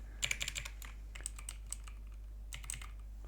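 Typing on a computer keyboard while editing a website, with a quick burst of clustered keystrokes followed by sparse taps and another short burst, close and clear over a steady low hum, no talking.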